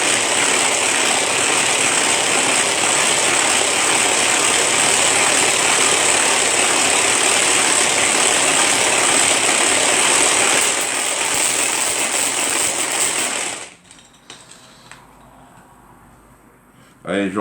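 Electric mixer on speed 1 beating four egg whites into firm, stiff peaks, a steady loud whirring drone running continuously for most of the stretch before cutting out abruptly near the end.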